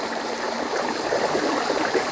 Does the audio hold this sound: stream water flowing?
yes